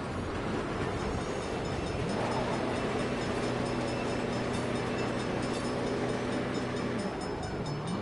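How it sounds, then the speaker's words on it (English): A train rumbles past in the Saints Row video game, a loud, steady roar filling the whole span with a sustained low horn-like tone held through the middle. "Crap. Bad time for a train."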